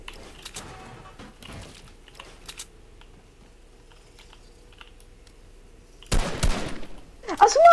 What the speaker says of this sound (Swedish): Jag bara sköt två skott och det var SMG.